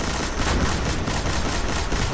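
Heavy machine gun fire in Destiny, a dense, continuous burst of rapid shots at close range that fills the whole stretch with steady, unbroken roar and no voices.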